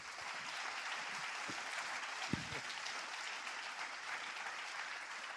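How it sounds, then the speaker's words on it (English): A conference audience claps warmly for an organiser, a steady wash of applause at moderate, fairly distant level with one sharper knock partway through. "So a warm applause to Stefan."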